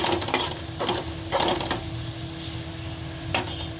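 Capsicum and cabbage momo filling being stirred and mixed, with scraping, rustling strokes at an uneven rhythm, close and moderately loud, several sharper clatters standing out above a steady low background hum.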